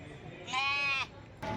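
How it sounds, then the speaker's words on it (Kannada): Bandur sheep on a farm near Kengeri, Bengaluru, let out one clear, loud bleat lasting about half a second, followed by a short burst of other noise. "ಈ ಬಂಡೂರು ಕುರಿಗಳು ಬೆಂಗಳೂರು ಕೆಂಗೇರಿ ಹತ್ರ ಇವರು ಸಾಕಿರೋಂಥದ್ದು"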